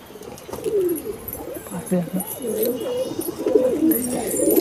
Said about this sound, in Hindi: ये देखिए दोस्तों कबूतर किस तरीके से खा रहे हैं